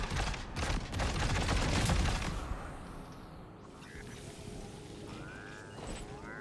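Rapid bursts of gunfire from the video game Death Stranding 2 rattle loudly for about two seconds, then fade into a softer mechanical clatter and lingering ambience.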